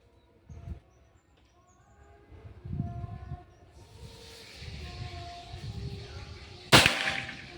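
A single sharp, loud crack of a PCP air rifle shot fired at a target with CS Dome pellets near the end, after low rumbling handling noises and a faint hiss.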